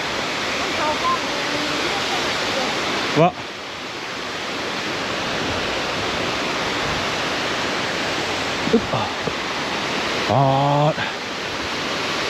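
A steady broadband rush of a large waterfall in southern Laos fills the whole stretch, with a few brief voices and small knocks surfacing faintly over the roar.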